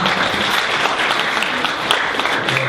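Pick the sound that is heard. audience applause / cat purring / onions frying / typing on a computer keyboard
audience applause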